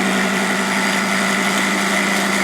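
A rock tumbler loaded with valve springs runs loud and steady, a continuous churning mechanical drone with a constant hum and rattle throughout, no talking.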